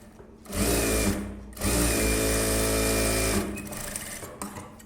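A tailor's sewing machine stitches a blouse front in two close, loud bursts of rapid whirring, a brief pause between them, then quieter handling of the cloth.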